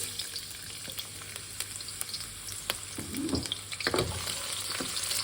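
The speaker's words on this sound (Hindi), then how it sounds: "थोड़ा सा अदरक है जिसको मैं थोड़ा फ्राई करूँगी" Oil sizzles and crackles in a pan as chopped garlic and ginger fry for achari daal, with a few stirring scrapes partway through, close up and without speech.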